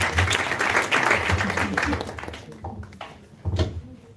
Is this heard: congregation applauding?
yes